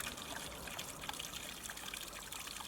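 Water trickles over the rock spillway of a newly built garden pond waterfall, a soft continuous splashing and dribbling heard close but quietly, steady throughout with no voices.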